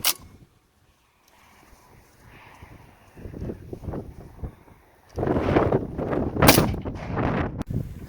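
Rifle shot from a PTR 91, a G3 clone with a 16-inch barrel, firing 7.62x51 147-grain FMJ into a rubber stable mat outdoors; the report sounds as a loud burst amid steady wind noise and rumble.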